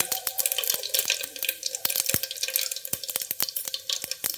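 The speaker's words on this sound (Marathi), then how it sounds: "आणि हे छान मस्त जिरं जिरं छान तळतळलंय" Cumin seeds sizzling in hot oil and butter in a pan for pav bhaji, a steady close crackle with rapid sharp pops and ticks over a constant hiss, no talk.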